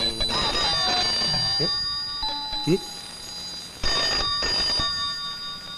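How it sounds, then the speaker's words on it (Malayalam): A telephone rings in repeated bursts under people talking, the bell tone fairly close and moderately loud. "ഫോൺ ബെല്ലടിക്കുന്നത് നിനക്ക് കേട്ടൂടെ"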